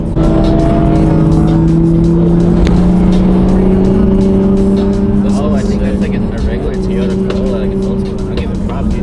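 Rally car at a touge rally on a mountain road, its engine note droning loudly and steadily as it passes close by, with people talking over it.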